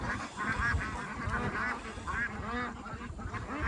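Free-range ducks on a mountainside farm quack in a busy, overlapping chorus while being lured with corn, with calls close by and continuous, some honking goose-like notes mixed in.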